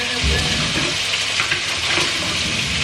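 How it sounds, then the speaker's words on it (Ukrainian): Steady, dense sizzling of fish frying in hot oil in two pans fills the scene, loud and close, with faint clinks of stirring and no voices. "смажити на двох сковорідках"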